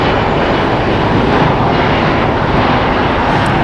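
A six-year-old Embraer E175LR regional jet operated by SkyWest at Los Angeles International Airport, producing a loud, steady broadband engine roar that fills the whole moment without variation.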